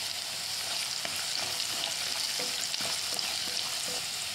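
Onion with turmeric and chili powder fries in a pan, giving a steady, even sizzle with soft stirring scrapes, close and moderately quiet, with no voices.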